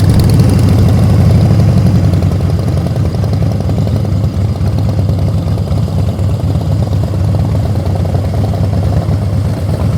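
A car engine holds a steady, powerful low rumble as the clutch is let out barely and slowly, the drone loud and continuous throughout with no voices over it.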